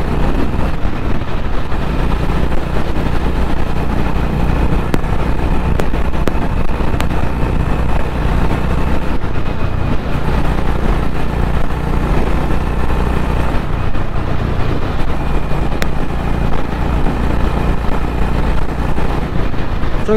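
A Honda CB 350 Highness motorcycle cruising on a highway makes a loud, continuous engine drone mixed with heavy wind rush, steady for the whole stretch with no talking.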